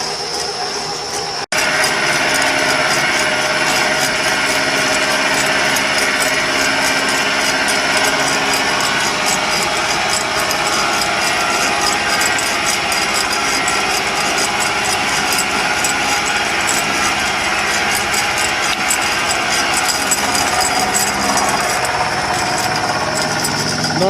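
A small, worn milling machine runs a 1-inch end mill through aluminum, taking a 50-thousandths cut. The steady, loud, close grinding whine holds without a break for the whole stretch, starting just after a brief quieter moment.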